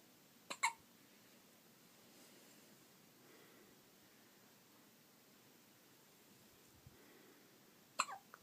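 Two sharp, squeaky hiccups, one near the start and one at the very end, separated by a long quiet stretch with faint background hiss.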